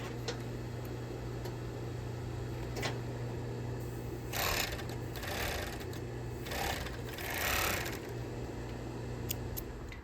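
A sewing machine runs a zigzag stitch along a fabric edge while a pocket flap is made, a steady mechanical hum and rapid ticking broken by a few brief louder bursts, close and alone.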